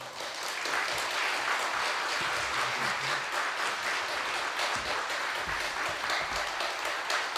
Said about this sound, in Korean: 이 시간 선교사님 나오실 때 힘차게 박수로 맞이해 주시면 고맙겠습니다